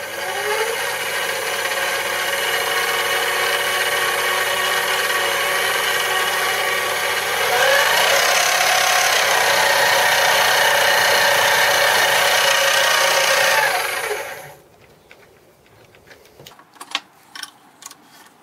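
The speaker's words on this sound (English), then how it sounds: "I need to drill it." A power drill bores into a metal camera mount part, with a loud continuous whining drone that holds steady for about fourteen seconds, then stops abruptly, leaving faint clicks and light handling knocks.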